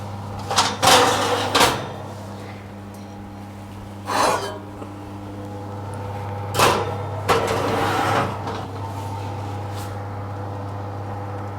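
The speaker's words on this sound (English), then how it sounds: "we will just put this one in the oven as it is" A cottage pie goes into a home oven: a few knocks and clunks from the oven door and dish come in separate bursts over a low steady hum, with no talk.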